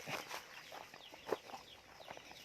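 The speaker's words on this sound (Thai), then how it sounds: "เลี้ยงไก่ เราไปดู เล้าไก่ นะครับ ที่เพิ่งสร้างเสร็จ" Chickens kept free-range in a garden with a newly built coop cluck softly and intermittently in the distance, a faint scatter of short calls with no talking.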